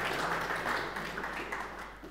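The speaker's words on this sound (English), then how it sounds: "Round of applause for our volunteers." Audience applause for volunteers at a Bitcoin meetup, a steady, moderately loud patter of many hands clapping in an indoor room, continuous and unbroken.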